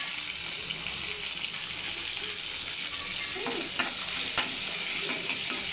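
Garlic and ginger frying in a pan for beans palya, a steady hiss of sizzling oil with a few sharper clinks and stirring knocks partway through, close by and with no talk.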